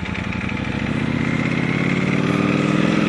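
A Ducati Panigale V4 Speciale motorcycle engine runs steadily and loudly, a dense rumble held at a constant level throughout with no talk over it.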